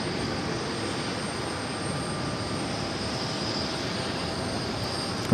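A Cape Air Cessna 402C twin-propeller plane at New York's JFK airport gives a steady, broadband engine drone that holds constant and moderately loud, with no voices.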